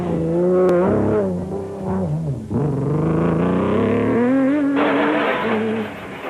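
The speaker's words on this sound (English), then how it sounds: "On board the proudly South African Nissan Hardbody, which had the edge in the power stakes" On-board engine of a Nissan Hardbody rally truck racing at the Sun City 400, a loud continuous roar rising and falling as it revs and shifts, heard from inside the cab with no talk.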